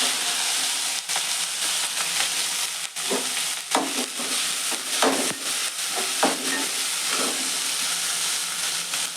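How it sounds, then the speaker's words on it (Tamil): Loud, steady sizzling of onions frying in hot oil, a broad hiss with occasional stirring scrapes. "இப்போ வெங்காயம் சேர்க்குறேன்."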